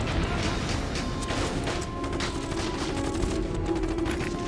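Gunfire from the video game Valkyria Chronicles, a dense, steady barrage of shots and crashing impacts that carries loudly through the whole stretch with no pause.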